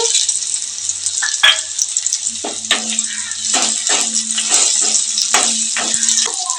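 Onion and dried red chillies fry in oil for a village-style drumstick dal, a steady bright sizzle with scattered pops and crackles, close and moderately loud, with a faint low tone running beneath.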